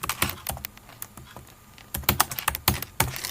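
A name is typed on a computer keyboard into an Excel spreadsheet, with clear close clicking keystrokes: a few scattered taps first, then a quicker run of keys toward the end.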